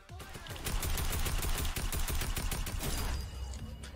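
Rapid automatic gunfire in a shooter game, a loud, sustained burst of closely spaced shots that runs for several seconds and then tapers off.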